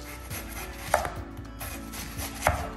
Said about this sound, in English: Okay, last but not least, got the onion. Now, when we cut it, we wanna leave this one in slices.